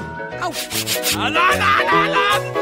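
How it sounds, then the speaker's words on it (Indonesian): A saw rasps back and forth through a Twix chocolate bar in quick, rough strokes, with rhythmic musical tones and some sharp squeaky sounds layered over the cutting. "Gergaji akan membantuku dalam hal ini."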